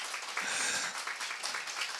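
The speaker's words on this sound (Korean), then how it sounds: "우리 하나님께 감사의 박수를 한번 드립시다" Congregation clapping in thanks during a Korean Sunday church service, a steady dense patter of many hands filling the room at moderate level for the whole stretch.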